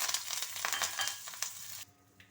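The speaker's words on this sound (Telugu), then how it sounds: "కొంచెం ఇంగువ కూడా వేసేసుకొని కరివేపాకు కూడా వేసేసుకోవాలి. కరివేపాకు కూడా చిట్పట్లాడుకోవాలి." Curry leaves and asafoetida crackle and sizzle in hot oil, a dense, loud frying hiss with sharp pops for most of the moment, then abruptly dropping to near quiet.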